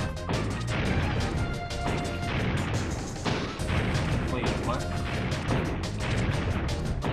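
Tank firing in the Ape Escape video game, a dense run of loud crashing blasts and booms amid game music, with a voice speaking partway through.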